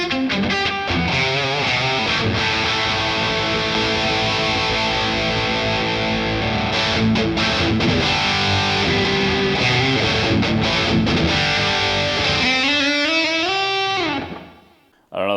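An electric guitar plays through a Boss Katana:GO pocket amp set to a distorted 'brown sound' tone, with continuous loud, crunchy chords and riffs ending in a brief slide before cutting off.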